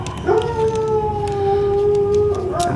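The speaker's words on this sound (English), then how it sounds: "That is my dog in the other room." A dog howls in a long, steady, wavering note from another room, muffled but fairly loud, then begins a second howl, with no talking.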